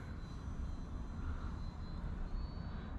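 An E-flite Valiant RC plane flying aerobatics drones with a steady, moderately distant engine whine over outdoor wind rumble, holding an even level throughout.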